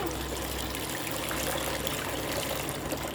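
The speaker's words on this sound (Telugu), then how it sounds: "వాటర్ వేసుకుంటూ మనం చేసేసుకోవాలి" Water poured over soaked green urad dal while rubbing off the skins, a steady close splashing and trickling hiss with no gaps across the short stretch.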